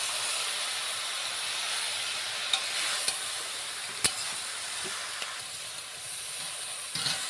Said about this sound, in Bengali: এবার আমি এটা ভালো করে একটু নাড়িয়ে দেবো।